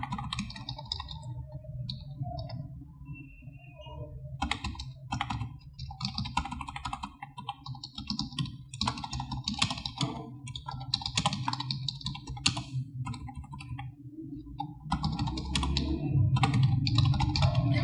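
Fast, uneven typing on a computer keyboard while entering text into a text box in MS Word 2016, with close, crisp key clicks in bursts and brief pauses over a faint background hum.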